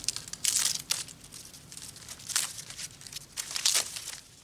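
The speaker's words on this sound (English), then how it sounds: "I'm just going to strip the old brown leaves off." Old brown leaves stripped by hand from harvested seed heads from a container garden, making three short bursts of dry crinkling and crackling separated by quieter gaps.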